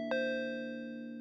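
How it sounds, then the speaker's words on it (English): A single doorbell chime rings at a front door, struck once with a sharp onset and then a long sustained tone that slowly decays, clear and alone without voices. "I ring the bell"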